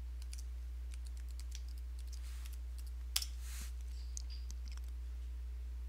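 Keys tapped on a computer keyboard to enter a password on a Ubuntu computer, a quiet scatter of light clicks over a faint steady hum, with one sharper click near the middle.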